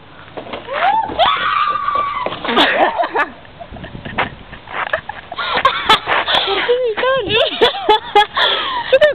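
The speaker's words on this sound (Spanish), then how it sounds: "un nenito gritando" A little boy screams and shrieks repeatedly while playing at a playground, loud, close cries in bursts, with laughter and talk mixed in.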